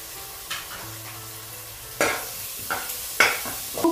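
Onions frying with green chilies and ginger-garlic paste in a pan, a soft steady sizzle broken by several close scraping stirs of a spoon against the metal.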